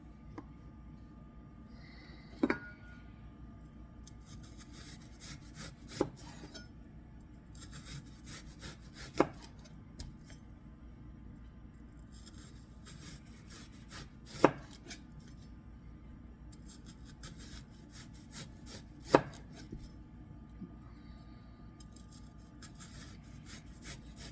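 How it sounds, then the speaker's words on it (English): A knife slices an onion on a cutting board, a handful of sharp isolated chops spaced seconds apart over a faint steady background, with no talking. "You need to slice an onion as well"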